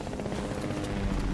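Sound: helicopter in Fortnite video game

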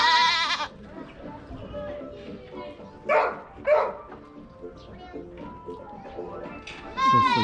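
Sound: goat bleating at a zoo

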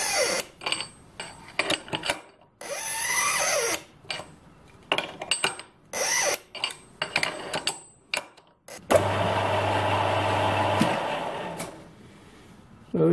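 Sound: metal lathe cutting a thread in brass

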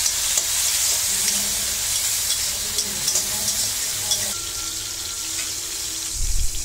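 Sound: sautéing onions and tomato in a pan

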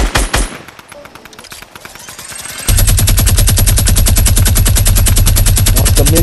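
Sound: minigun firing in the video game Fortnite

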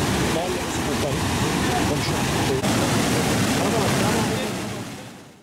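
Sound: overflowing creek after heavy rain in Rize

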